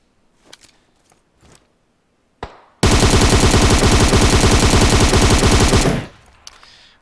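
An M762 Beryl rifle with a flash hider fires a sustained full-auto burst of about three seconds in a video game, loud and rapid, following a few faint footsteps and clicks.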